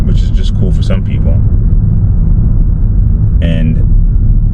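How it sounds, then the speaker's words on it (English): A BMW 430i xDrive's engine hums as a low, steady rumble while the car drives, running beneath a voice that talks throughout. "get the engine noise"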